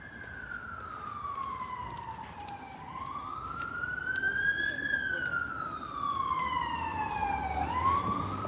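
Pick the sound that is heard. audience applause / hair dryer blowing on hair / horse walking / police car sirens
police car sirens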